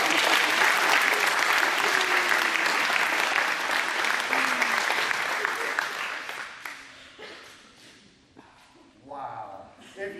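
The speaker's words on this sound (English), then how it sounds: "Give them all a big round of applause." Applause from an audience for a group of young instrumental performers, dense steady clapping for about six seconds that thins and fades into scattered claps, with some voices in the crowd.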